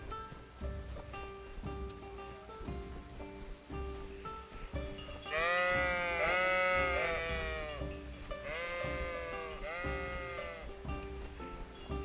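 Sheep bleat in overlapping bursts from a pen in a video game, loud and close over a busy ambient game soundscape with faint background music.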